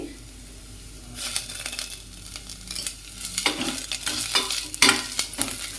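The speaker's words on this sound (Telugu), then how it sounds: "ఇందులో కరివేపాకు కూడా వేసుకొని ఫ్రై చేసుకోవాలండి" Onion and curry leaves fry in a pan for a ridge gourd and chana dal curry, giving a steady sizzle with crisp crackling and repeated stirring scrapes, close and fairly loud.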